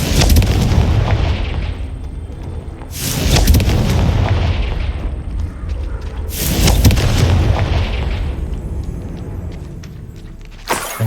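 Booming explosions from the Confringo fire spell in Hogwarts Legacy, three heavy blasts with rumbling tails spaced a few seconds apart, loud and close with no voices.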